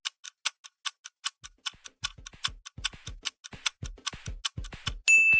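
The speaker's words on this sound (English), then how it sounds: "The clock is ticking." Clock ticking sound effect: a steady series of sharp, close ticks that speed up and grow denser toward the end, finishing with a brief bright tone, with no voices.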